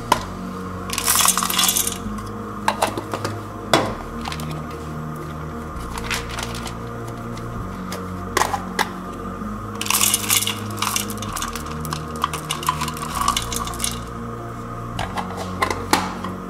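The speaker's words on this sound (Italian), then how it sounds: "Mettiamo 300 g di cioccolato a sciogliere a bagnomaria." Pieces of chocolate, 300 g, rattle and clatter into a bowl for melting in a bain-marie for Neapolitan mostaccioli, repeated bursts of sharp tumbling clinks over a steady background hum.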